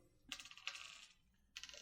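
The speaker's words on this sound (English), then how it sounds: "You drop a dice." Dice clatter onto a table during a Warhammer 40,000 tabletop battle, a close rattling burst, a second right after, then a third following a short pause, with no talking.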